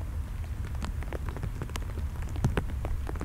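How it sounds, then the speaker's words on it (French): Steady rain falling in a cemetery at night, a dense even patter with many close individual drops striking nearby surfaces, no voices. "La pluie devient un petit peu plus soutenue."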